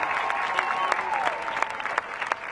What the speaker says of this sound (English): Y'all give him a big round of applause, please.